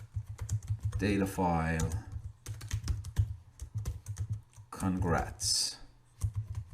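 Rapid keystrokes on a computer keyboard, typed in short bursts while a person talks intermittently over them at close range.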